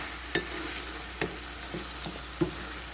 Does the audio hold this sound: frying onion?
yes